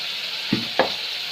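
A spoon stirs chicken curry with salt, chilli and spices in a pan, giving two short scraping knocks over a soft continuous sizzle, close and moderately quiet, with no talking.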